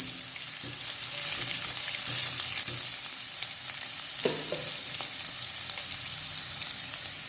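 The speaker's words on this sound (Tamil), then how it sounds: "அதை போட்டு வதக்கணும்" Grated ginger sautéing in hot oil in a pan, a continuous close sizzle with occasional soft stirring scrapes and one brief clatter, no voices.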